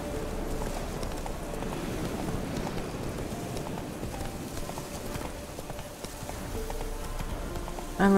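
Horse hooves clip-clop steadily at a gallop in Witcher 3: Wild Hunt, a continuous close rhythmic patter running throughout with no talk over it.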